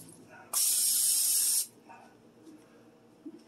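A single steady hiss of aerosol cooking spray on a pan, lasting about a second, loud and close, followed by quiet kitchen background.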